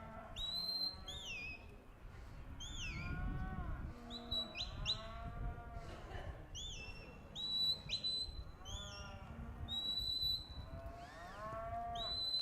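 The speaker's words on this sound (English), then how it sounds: "Cows bellowing over there in the catch pen." Cattle bellowing from a catch pen at a cattle ranch-sorting finals arena, repeated drawn-out moos layered with sharp whistles and bird-like calls over steady crowd and arena noise, continuing through the whole stretch.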